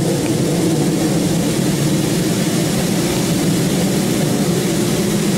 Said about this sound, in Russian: Шум самолета, шум падающей воды